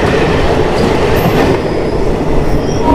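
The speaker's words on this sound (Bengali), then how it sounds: "শিয়ালদহ স্টেশনের 12 নম্বর থেকে ট্রেন ছেড়ে দিয়েছে" The Uttarbanga Express rumbles loudly and steadily after pulling out of platform 12 at Sealdah station, wheels clattering on the track with faint high squeals, heard continuously from inside the coach.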